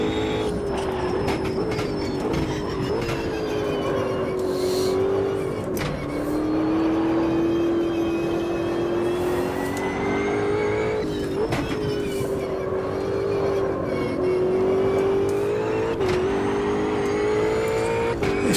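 Race car engine in the Automobilista 2 sim racing game, likely a GT3 car, droning steadily with rising and falling revs and gear changes, loud and continuous for the whole stretch with no talking.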